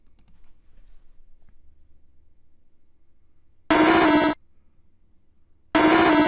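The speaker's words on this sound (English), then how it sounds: "this is the Quagsire cry from the earlier Pokemon games" The Quagsire cry from the early Pokemon games plays twice as a short, loud electronic squawk, repeating as a loop after a near-silent stretch with faint clicks.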